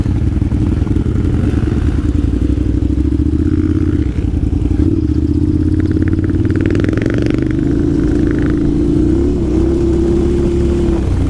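Motorcycles, including a two-up KLR and a Husqvarna, ride together with a loud, continuous engine drone up close and a slowly rising pitch as they accelerate.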